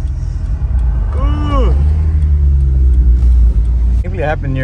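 A loud, steady low Honda Civic engine rumble runs throughout, with a person speaking over it twice, briefly and upward in pitch.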